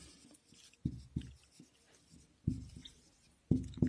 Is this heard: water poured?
no